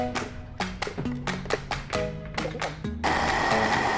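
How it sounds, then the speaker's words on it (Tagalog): A blender blending cucumber pulses in short repeated bursts, then runs continuously with a loud, steady whir. "ilagay na natin ang ating cucumber sa blender"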